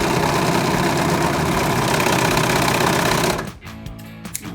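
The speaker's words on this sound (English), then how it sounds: "Line my seam by this middle part of the serger." A serger sews a seam on boy's athletic pants, running with a loud, steady, rapid mechanical whir for a few seconds before stopping abruptly, leaving faint clicks and handling sounds.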